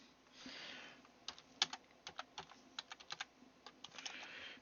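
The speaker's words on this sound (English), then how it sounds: "typing poorly again." Uneven typing on a computer keyboard during a WWII 509th Bomb Group B-29 mission recording, a steady run of quiet, irregular key clicks over a soft background hiss.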